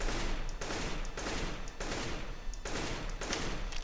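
Continuous automatic gunfire in Counter-Strike: Global Offensive, a dense rattling stream of shots broken by brief pauses into several bursts, loud and close throughout with no talking.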